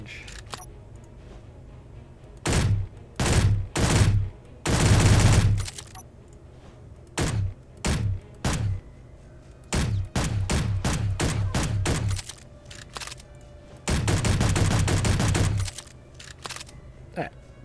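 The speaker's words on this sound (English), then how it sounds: "and your pistols. Not very accurate at long range." Pistol gunfire from the Space Engineers video game: loud, close single shots and short rapid bursts fired in irregular clusters, separated by brief pauses, with no talking.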